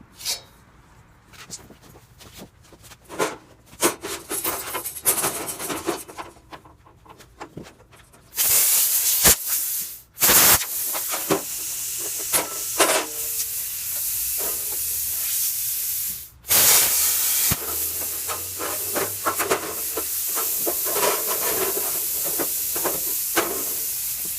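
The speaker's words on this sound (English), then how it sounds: "I use a straight edge and drag the torch tip to cut." A cutting torch dragged along a straight edge slices through the metal of a Jeep Cherokee unibody, a loud roaring hiss that starts, stops and restarts in long bursts, with clanks and scraping between cuts.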